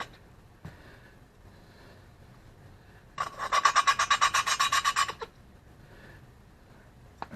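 Valve being lapped by hand with lapping compound in a small Kawasaki FX1000 engine on a Hustler Super Z mower: a two-second burst of rapid rhythmic gritty rasping, about a dozen quick back-and-forth strokes, close and alone between quiet pauses.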